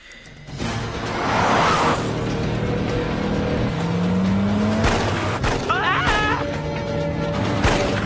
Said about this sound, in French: Hé, roule plus vite. Cette voiture a 20 ans, Sean.